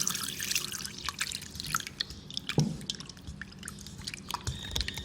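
Water splashes and drips into a bowl of raw goat liver being rinsed, a close, soft trickle with small sloshes and droplets, alone.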